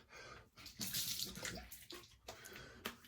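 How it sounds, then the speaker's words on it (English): Warm water splashes from a running tap in uneven bursts while rinsing soap off a face after shaving, close and fairly loud, with brief pauses between the splashes. "Nice warm water splash."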